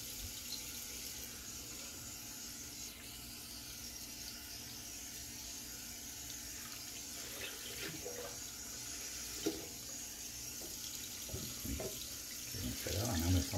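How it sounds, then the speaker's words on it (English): Cold tap water runs steadily into a sink as a cloth is rinsed out, a soft continuous stream with a few splashes and handling sounds near the end. "So I'm going to rinse my cloth out rather in cold water. Get it nice and cold. Cold as can be from tap water."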